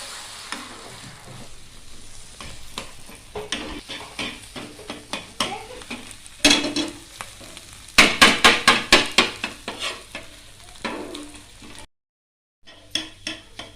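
Beaten egg cooking in a pan for Marathi-style egg bhurji, with a steady sizzle under rapid spatula scraping and chopping taps that build into a fast, loud run of rhythmic strikes before a brief silence, no talk.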